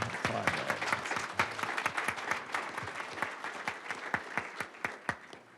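An audience applauds a woman named Meredith at a talk on climate, markets and corporate America, the clapping moderately loud with individual sharp claps standing out as the round thins toward the end.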